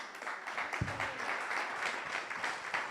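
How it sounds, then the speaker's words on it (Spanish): A church congregation applauds during an evening worship and testimony service, steady clapping filling the room at moderate distance, with no speech over it. "El Señor merece un mejor aplauso."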